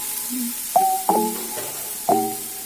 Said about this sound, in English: Add some ginger and garlic paste with it.